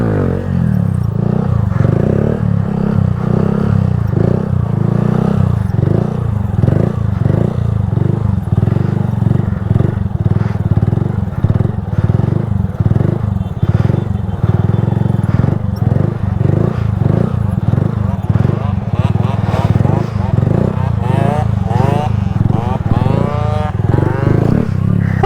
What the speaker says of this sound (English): Nobody messes with me because it's a moped.